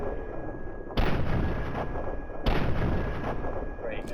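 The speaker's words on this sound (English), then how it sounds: "Yeah, he's got a sniper rifle." Two sharp sniper rifle shots in Fallout 3, about a second and a half apart, each a loud close crack followed by a decaying rumble, with faint background sound between them.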